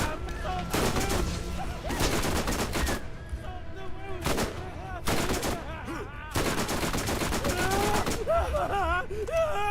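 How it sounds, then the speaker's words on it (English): Heavy weapon fire and explosions from Borderlands 4 pound in loud repeated blasts amid constant combat noise, with a rocket launcher going off and voices talking over the chaos. "That's a rocket launcher."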